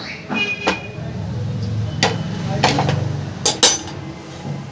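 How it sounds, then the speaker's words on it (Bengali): A kadai wok set on a gas stove being oiled with white oil, with several sharp metallic clinks and knocks of utensil against pan spread across the moment, amid faint background noise. "গ্যাসে কড়াই বসিয়ে দিয়েছি, দিয়ে দিলাম আমি সাদা তেল।"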